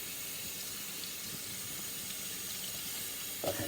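Hot water runs steadily from a kitchen tap, a soft continuous hiss and splash that holds at an even level with a brief louder gush near the end, no talking.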